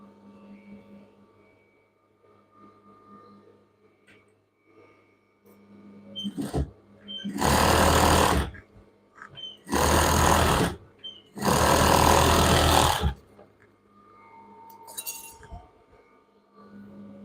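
Three loud, close bursts of a sewing machine stitching a half-inch hem on a child's pajama, separated by short pauses, with faint handling clicks before and after.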